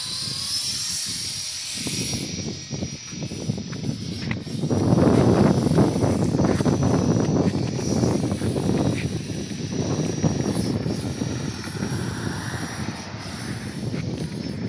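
Blade 300x radio-controlled helicopter flying nearby, a continuous buzzing rotor and motor whine that swells louder in the middle and varies as it maneuvers.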